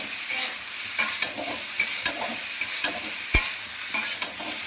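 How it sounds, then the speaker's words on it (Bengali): Mixed vegetables (beans, broad beans, potato, pumpkin and carrot) fry in a pan with a steady sizzle, broken by regular scrapes and knocks of a stirring spoon, close and clear with no talking. "দিয়ে এটা ভালো করে ভেজে নেব।"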